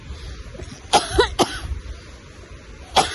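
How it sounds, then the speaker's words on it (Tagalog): A man with a chronic cough lasting ten years coughs outdoors in the mountains: three harsh, close coughs, two in quick succession and a third after a pause. "yung ubo ko, ano na to, 10 taon na to yung ubo ko, hindi pa rin natatanggal."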